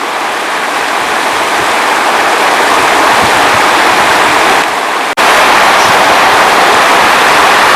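Loud, steady roar of rushing water from a powerful river current and waterfall in a canyon at Buky, Ukraine, continuous and close, with a brief dip near the middle.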